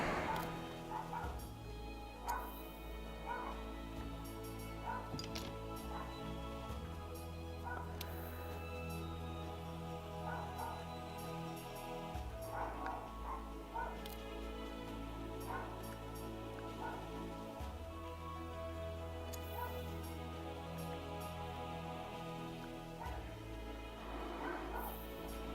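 Dogs barking and yipping, the household's dogs joined by neighbour dogs, repeated barks at varying distance over steady game music, with some whimpering.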